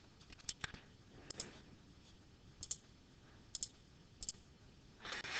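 A computer mouse clicks in sharp, quiet pairs and short bursts, spaced irregularly over several seconds, close and alone in a hushed room, ending with a brief rustle.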